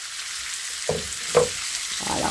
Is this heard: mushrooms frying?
yes